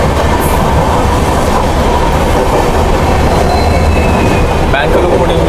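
Passenger train with a banking locomotive attached, rolling through the hills of northeast India between Guwahati and Badarpur, a loud constant rumble and rattle of wheels on rails with a faint squeal near the end.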